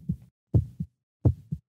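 A heartbeat sound effect thumps in paired lub-dub beats, three close, deep pulses in a quick steady rhythm against silence.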